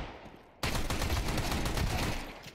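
Gunfire in a Counter-Strike match between NAVI and Spirit at IEM Katowice 2024 on the Anubis map: a sudden, sustained burst of rapid shots cuts in after a quiet moment and keeps going to the end.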